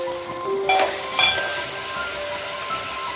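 Beans, capsicum, green chili and chopped ginger sizzle in a pan for Maggi soup, a steady close frying hiss with a couple of brief clatters of stirring near the start.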